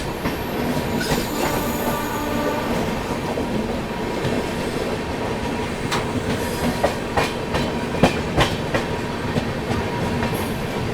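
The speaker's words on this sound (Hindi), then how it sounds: "वाराणसी बरेली एक्सप्रेस का डिपार्चर हुआ है लखनऊ चारबाग NR से।" The Varanasi Bareilly Express departs Lucknow Charbagh NR station, its wheels screeching in high, drawn-out squeals over a steady rumble and clatter of rolling railcars, loud and near, with no talk.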